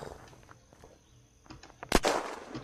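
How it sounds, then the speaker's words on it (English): A single sharp gunshot in the video game Unturned cracks loudly near the end, following quieter shuffling and thuds. "I heard a gunshot."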